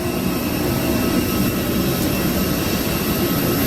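A loud engine running on a boat, a steady broadband roar and drone that fills the whole stretch without letting up, close and constant with no voices over it.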